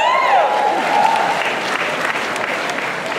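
Students at a senior school banquet applaud and cheer, a loud dense burst of clapping with some whooping tones at the start, settling into steady applause.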